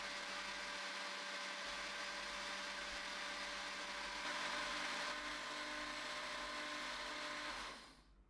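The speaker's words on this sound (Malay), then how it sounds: "Kita akan kisar hingga sebati anggaran satu setengah sehingga dua minit." A blender whirs continuously at full speed, mixing chocolate cake batter with vanilla essence, a loud, steady motor whine heard up close that winds down at the very end; no one speaks.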